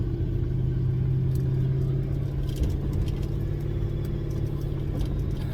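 Engine of a vehicle held in third gear on a steep downhill, engine braking below about 2,000 RPM: a steady, close, low droning rumble that never lets up, with no talking.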